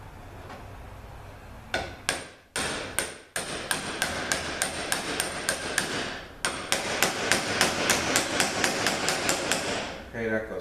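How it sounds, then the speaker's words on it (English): Steel hammer knocking a bushing into a ZF6HP19 transmission part, a few sharp blows and then a steady run of rhythmic metallic strikes, close and loud. "I'm going to knock this bushing in, I'm going to try it, and then I'll knock the other one in"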